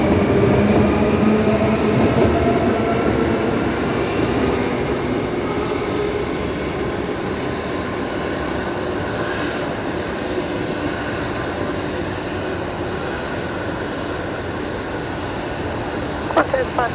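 Jet airliner departing Brisbane Airport at night, a steady broad roar holding from start to finish at moderate distance, with voices and radio chatter faintly underneath.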